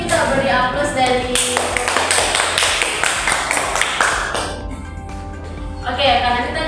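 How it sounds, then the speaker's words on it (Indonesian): A classroom audience applauds together, a dense burst of clapping lasting several seconds that tapers off, with some voices mixed in. "Kalau begitu kita beri aplaus dari"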